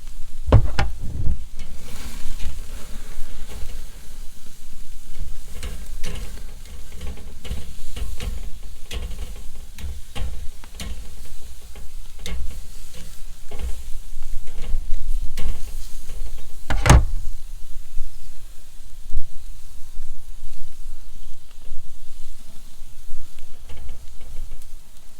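Potatoes fry and sizzle steadily in a pan while being basted with hot fat, a constant loud crackle with occasional scrapes and a sharp clatter partway through, no talking.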